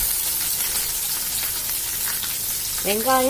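Onions and curry leaves sauté in a pan with a constant dense sizzle and crackle at an even level, and a brief high squeak or whistle rises over it just before the end. No one speaks.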